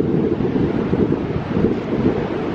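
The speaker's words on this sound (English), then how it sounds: "It's pretty windy down on the beach, but it's pretty windy up here too." Strong wind at Ocean Beach buffets the microphone in a steady low roar, with surf faintly underneath; no voices.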